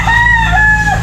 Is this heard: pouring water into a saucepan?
no